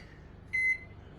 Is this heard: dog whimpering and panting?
no